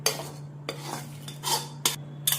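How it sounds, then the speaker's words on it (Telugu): A spoon scrapes and clinks against a bowl in several short, separate strokes while tempering is mixed into homemade pickle; the sounds are close and fairly quiet over a steady low hum. "ఈ పచ్చడి తాలింపు అంతా కూడా బాగా కలిసేలా కలుపుకోవాలి."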